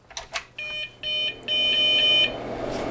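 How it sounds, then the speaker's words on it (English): An Osicom OfficeMate 286 computer gives a series of electronic beeps at startup, short tones followed by a longer sustained beep, close and fairly loud. "that's all I get, is those beeps"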